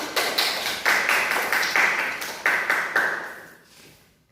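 Classroom applause for a classmate during a math lesson: a group claps in steady, rhythmic unison, about a dozen sharp claps that fade out near the end, with no talking.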